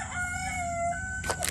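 A chicken crows on a farm: a drawn-out, tonal rooster call holds steady, then gives way to a few sharper, rougher bursts near the end, close and fairly loud.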